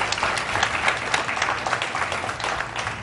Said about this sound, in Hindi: ताली होनी चाहिए सेवन अप के लिए